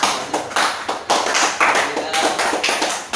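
Students in a school classroom clap for a classmate after a presentation, a short burst of dense, uneven applause from a small group, fairly close and lasting about three seconds.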